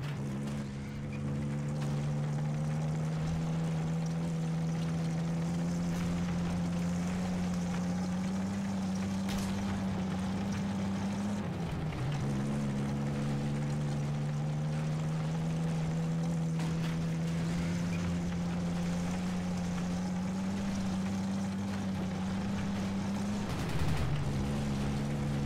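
A Soviet T-60 light tank engine in a video game drones steadily while driving, a loud low hum that dips briefly twice as it shifts, with faint battle noise behind.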